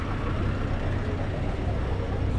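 Minibuses idle and rumble at a busy street terminal in San Cristóbal, Mexico, with a steady, close engine drone and traffic noise continuing throughout.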